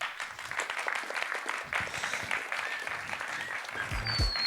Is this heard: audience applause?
yes